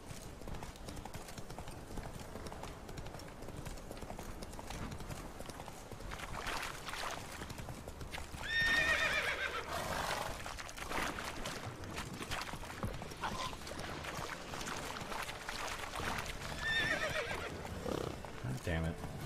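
A video game horse trots with steady clip-clopping hooves and lets out a couple of whinnies partway through and near the end, heard under a voice and game background noise.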